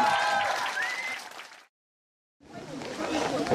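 Concert audience at a reggae bonfire party show clapping and cheering loudly, a roar of applause that fades to a brief silence and then swells back up.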